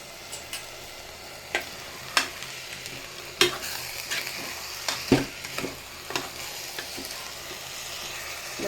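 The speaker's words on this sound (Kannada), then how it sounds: "ಚೆನ್ನಾಗಿ ಫ್ರೈ ಆಗ್ತಾಯಿದೆ" Ghee rice ingredients frying in a pan, with a steady soft sizzle broken by scattered sharp clicks and scrapes of stirring, fairly quiet and with no talking.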